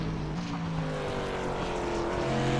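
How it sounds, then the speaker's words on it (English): An SK modified race car accelerates onto the front stretch of a short oval, its engine note rising steadily in a loud, continuous buzzing drone heard from fairly close. "Byron Bartlett pushes that SK into the front stretch for his first qualifying time tonight"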